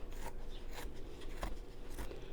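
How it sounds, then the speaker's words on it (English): Scissors snipping out an embroidered fabric heart, a soft continuous run of crunchy, rasping cuts close by, with no talk. "I'm just gonna cut this heart out and restitch that, because I cut it too close when I was trimming"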